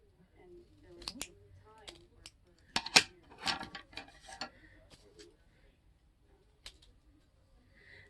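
Snips cutting off the excess of an artificial nail tip, with several sharp, close clicks and snaps scattered among quiet handling sounds.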